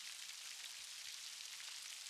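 Steady rain patters on dense rainforest leaves as an even, hissing wash of countless drops, unbroken and soft, with no voices.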